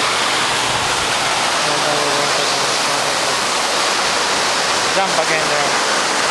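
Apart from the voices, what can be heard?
waterfall rushing during canyoning in Samar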